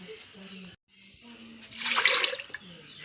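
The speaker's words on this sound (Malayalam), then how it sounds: "വെള്ളം ഒഴിച്ചു." Water splashes into a pot of lentils for a curry with jackfruit seeds and mango, a short loud pouring rush about two seconds into the clip. A quieter kitchen background and a voice can be heard before and after.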